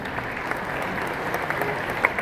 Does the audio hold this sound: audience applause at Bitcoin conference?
yes